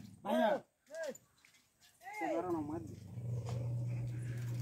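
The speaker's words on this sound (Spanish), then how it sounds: "Me mordió el perro." A dog at a rural home in Moñitos, Colombia, on a rainy day gives a few short, sharp yelping barks up close, followed by a person talking over a low, steady background hum.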